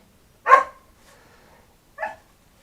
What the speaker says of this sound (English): Sorry if you hear the dogs barking.